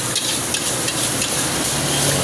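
Mie goreng noodles fry on a street food cart as a steady, dense sizzle with faint scraping and stirring clatters throughout.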